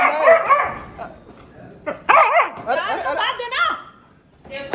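A dog barks and yips in several sharp bursts during a family Diwali celebration, loud and close, with people talking over and between the barks.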